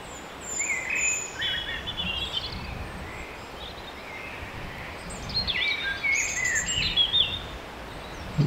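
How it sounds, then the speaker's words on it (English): Small birds sing and chirp in woodland at Whitehouse Woods, Lamlash, Isle of Arran, scattered trills and tweets at a moderate distance over a soft continuous background hush. "And the forest is alive with birdsong now."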